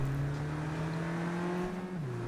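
A car in the video game Cyberpunk 2077: Phantom Liberty hums with a steady engine drone that dips in pitch near the end, loud and continuous with no talk.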